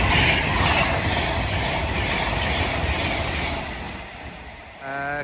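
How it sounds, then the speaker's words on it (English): An Avanti West Coast train from London Euston to Liverpool Lime Street passes at speed through Nuneaton station on the West Coast Main Line, a loud sustained rush and rumble that fades slightly before a horn-like tone at the end. "Passing through now is a Vantage West Coast service going from London Euston to Liverpool Lime Street."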